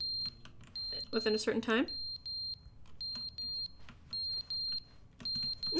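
A smoke detector in The Stanley Parable sounds a low-battery chirp, short high beeps repeating in quick pairs and groups, with a person talking over the first part.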